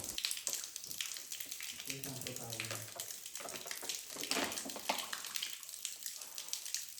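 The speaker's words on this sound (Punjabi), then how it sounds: "ਬਸ ਇੱਥੋਂ ਨੂੰ ਬੋਤਲ ਭਰਦੇ ਆ ਤੇ ਫੇਰ ਪੀਂਦੇ ਆ" Water runs steadily from a tap into a bottle, a faint continuous rushing with a voice briefly heard underneath.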